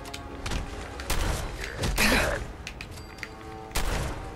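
Shotgun blasts in Fallout 4 inside the Mass Pike Tunnels, several loud booming shots at irregular intervals over a rumbling game background.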